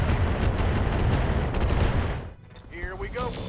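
Dense, sustained BattleMech weapons fire in the BattleTech video game, a loud continuous barrage of overlapping blasts that cuts off sharply, followed by quieter whining and whooshing weapon or servo sounds.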